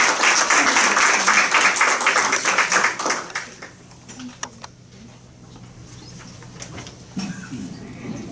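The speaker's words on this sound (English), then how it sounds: "Please give a round of applause and we welcome her to the dais" An evening audience at a church roundtable on nonviolence gives a round of applause to welcome a speaker. The clapping is fairly close and fills the first three seconds, then fades into quiet room tone with a few isolated taps.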